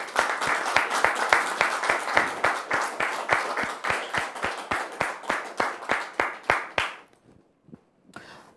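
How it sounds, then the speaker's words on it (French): An audience claps in rhythmic unison to welcome a guest, a nun, onto a stage. Loud, evenly spaced claps run for about seven seconds, then stop abruptly, leaving near silence with a couple of faint stray sounds. "Merci de recevoir maintenant la sœur Aurélie sous vos applaudissements,"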